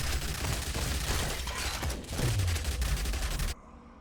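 Gunfire from a pump action shotgun in the Yet Another Zombie Survivor video game crackles in a dense, rapid barrage of shots and impacts, loud and continuous before cutting off suddenly.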